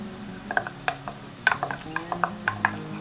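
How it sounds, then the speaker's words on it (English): Spoon or whisk stirring cornbread batter with baking powder and melted butter in a bowl, a series of irregular scraping clicks and taps, close and fairly quiet, with no talking. "put in the baking powder, the melted butter, and then I have to mix this up."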